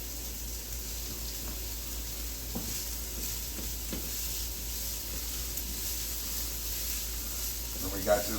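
Mushrooms sautéing for risotto in a hot pan give a steady, moderate sizzle and hiss, with occasional stirring scrapes and a brief clink near the end; a voice talks faintly underneath.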